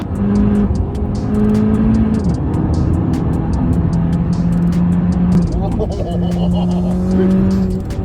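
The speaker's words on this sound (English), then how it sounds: "this car is also running a full system Miltech exhaust along with a stage 3 ECU and TCU tune" A Volkswagen Polo GTI with a full Milltek exhaust, stage 3 ECU and TCU tune and limited-slip differential revs hard and drones loudly close by, with tire squeal and a voice talking over the noise.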